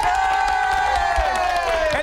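A studio crowd at a televised couples contest cheers and claps loudly to vote for one pair, with sustained shouts and whoops rising over the applause.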